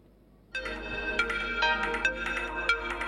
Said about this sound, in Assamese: কোনোবাই ফোন কৰি আছে